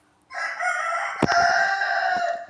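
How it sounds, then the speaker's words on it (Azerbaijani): A rooster crows in the video game Free Fire, a single sustained call sounding loud and close, starting abruptly after a brief silence and ringing on to the end, with no talk. "Xoruz banlama."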